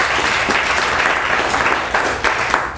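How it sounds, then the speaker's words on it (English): Audience clapping at a Dallas comedy club show, a dense steady wash of applause throughout, close and loud with no talking. "Round of applause if this is your first time here."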